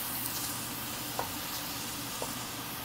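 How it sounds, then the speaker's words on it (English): A wooden ladle stirs chicken and shrimp fried rice in a hot pan, a steady close sizzle and hiss with a couple of soft scraping knocks, no voices. "I use this wooden ladle because too noisy. Keep hitting the pan."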